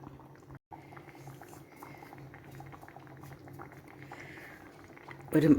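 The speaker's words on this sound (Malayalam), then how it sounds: "ഒരു സെക്കൻഡും കൂടെ തിളച്ച് കഴിഞ്ഞാൽ നമുക്ക് തീ ഓഫാക്കാം" A pot of Malayali-style fish curry bubbles steadily on the stove, a soft continuous simmering patter heard close, with a brief louder clatter at the very end.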